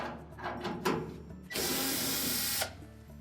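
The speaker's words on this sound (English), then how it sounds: "we're next going to take out the single screw that secures that bracket to the cabinet" A power drill backs out the single screw holding a Whirlpool washer's water inlet valve bracket to the cabinet, a close, loud steady whir of about a second after a few light clicks and handling sounds.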